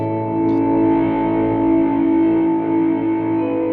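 Sustained electric guitar chord swelling in through a Kemper amp's effects, thick with overdrive and a shimmering wash, ringing steadily with no talking.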